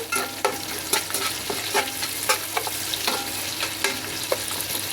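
Sliced onions sizzle frying in a pan for biryani, with repeated scraping stirs, a steady hiss punctuated by regular spatula strokes, close and fairly loud, no talking.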